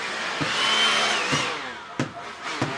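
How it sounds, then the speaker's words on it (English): A leaf blower running in a yard during Labrador Retriever stay training, a loud continuous whirring roar with a shifting pitch, interrupted by a few sharp clicks or thumps. "So we can go ahead and get something like our leaf blower here. Add that in."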